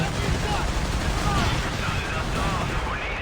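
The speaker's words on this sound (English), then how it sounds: "Okay, anti-tank cannon by my ally," Anti-tank cannon and battle gunfire in the Company of Heroes 3 strategy game, a dense loud wall of shots and explosions rumbling continuously with no clear pauses.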